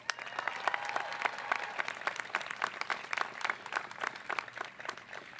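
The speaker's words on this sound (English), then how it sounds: "Let's give them a round of applause." A commencement ceremony audience bursts into steady, dense applause, many hands clapping together in a continuous crackling wash heard from within the crowd.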